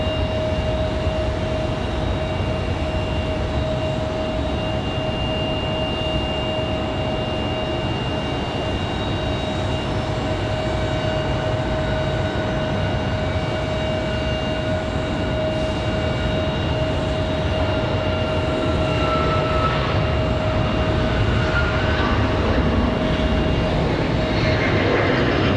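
A United Boeing 737 MAX 9 rolls down the runway on takeoff, its engines a loud, sustained roar with a steady high whine that swells slightly toward the end.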